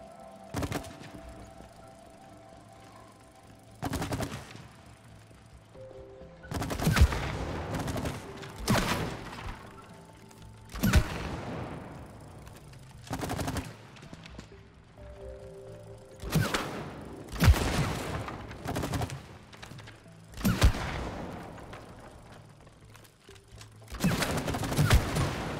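Gunfire at a shooting range in the It Takes Two video game, loud sharp shots fired in irregular bursts and clusters with quiet gaps between, a low mechanical hum underneath.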